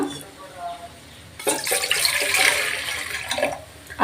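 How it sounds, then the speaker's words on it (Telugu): Water is poured into a cooking pot of tamarind broth for a fish curry, a steady splashing rush lasting a few seconds at close range, with a voice speaking before and around it. "ఇందులోనే ఇంకొన్ని నీళ్ళు కూడా పోసేస్తున్నాను"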